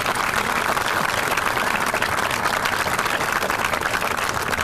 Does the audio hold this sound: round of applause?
yes